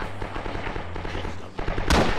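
Rapid automatic gunfire crackles in the World War II shooter Rising Storm, a sustained burst of shots ending in a sharp, loud blast near the end, with no talk over it.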